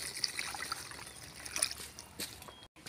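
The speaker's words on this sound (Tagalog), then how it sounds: "Lalagyan pa tayo ng tubig." Water is poured into a cooking pot of sautéed mung beans, making a faint, quiet trickle and splash that cuts off briefly near the end.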